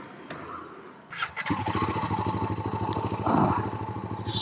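Royal Enfield Himalayan motorcycle with about 5,000 km on it setting off, a quiet low idle jumping into a loud, steady, thumping single-cylinder exhaust beat that swells as it revs and pulls away, close by.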